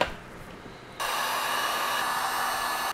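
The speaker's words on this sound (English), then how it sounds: "I have a heat gun, so I'm going to use the heat gun" A heat gun blows steadily close up while shrinking heat shrink tubing over new headphone driver wires for a motorcycle helmet intercom, a loud continuous hiss that starts abruptly after a quieter second and holds until cut off.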